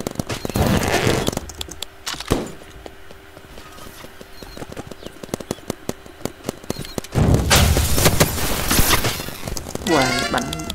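Rapid paintball gun fire in a Roblox paintball match: a run of sharp, close pops and clicks in quick bursts, broken by louder stretches of broadband noise and a brief high whine near the end.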